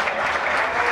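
A racquetball crowd at a grand slam final bursts into applause after a point, a short, dense burst of clapping that holds close and loud for about a second.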